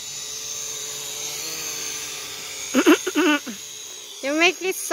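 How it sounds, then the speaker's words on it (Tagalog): A small drone hovers and buzzes steadily close by with a high whine, while a few people talk over it near the end. "Testing lang niya yung kanyang drone."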